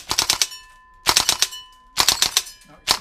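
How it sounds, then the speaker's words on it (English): A gas-powered PTS Magpul M4 airsoft rifle fires rapid three-round bursts, four sharp snapping bursts spaced about a second apart, close and crisp, with brief ringing in between. "This is just three round bursts"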